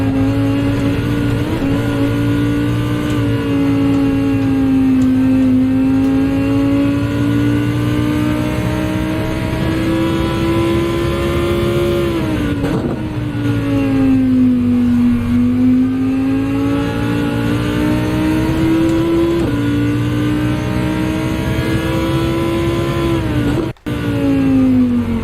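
Lamborghini race car engine in Gran Turismo on the Nordschleife, a loud, steady mid-engine drone with rising and falling revs through gear changes, alone without talk for most of the stretch.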